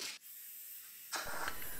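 A hobby powder coating gun bought cheaply online, used on an axe handle during a restoration, gives a brief broadband hiss at the start, then a short pause, then a second louder burst of spraying near the end.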